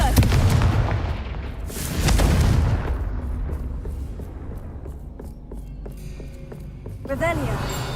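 A Confringo fire spell explodes in the Hogwarts Legacy video game, a deep booming blast followed by a rumbling swell and a second burst, then fading debris noise and game effects.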